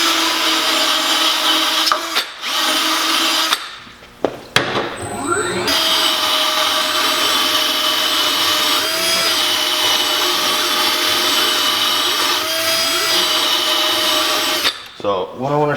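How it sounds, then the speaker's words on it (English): A power drill spins a wire cup wheel against a car wheel to clean the bead seat before mounting a tire, a steady close whirring grind that holds for long stretches, broken by brief pauses and a few clunks. "I'm just using a drill and a like wire cup wheel"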